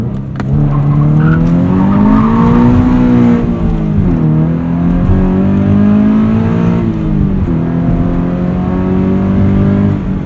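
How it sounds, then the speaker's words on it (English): Subaru BRZ on Direzza ZIII tires under hard braking and driving, a loud steady engine note with falling and rising revs and tire noise, heard close from inside the car with no talk. "I'll show you guys a little bit of a brake test here"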